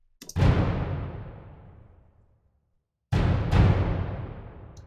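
Dry low timpani-style percussion hits from a sample library with no EQ or reverb, booming twice with a gap of silence between, each fading over a couple of seconds, played alone without talk.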